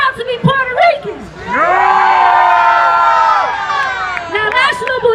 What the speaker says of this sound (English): Scream loud if you're proud to be Puerto Ricans.